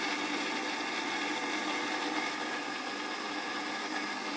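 An electric mixer grinder whirring steadily while grinding spice paste in a home kitchen, a constant buzzing motor whine that stays loud and even throughout, with no voices.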